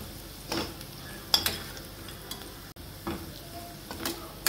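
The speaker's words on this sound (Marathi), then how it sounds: "हळद, धने पावडर, थोडा गरम मसाला छान हलवून घेऊ, 1 मिनिट परतून घेऊ आपण।" Turmeric, coriander powder and garam masala being sautéed in a pan for a sprouted moth bean curry, with a soft sizzle under intermittent scraping stirs and light clinks of a spoon against the pan.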